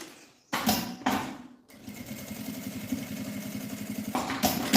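A sewing machine stitches a bag lining, starting with two short bursts and then running as a steady, rapid mechanical whir that keeps going to the end, close and without speech.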